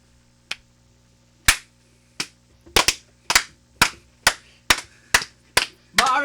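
A run of sharp, loud single claps used to sync podcast recording, about a dozen spaced snaps roughly half a second apart, each ringing briefly in a quiet room with no talking.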